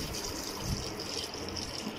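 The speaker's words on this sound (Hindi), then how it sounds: "पानी डाल देंगे" Water gushes steadily from a glass into a pot of mutton being cooked for shami kabab, a continuous, close pouring rush.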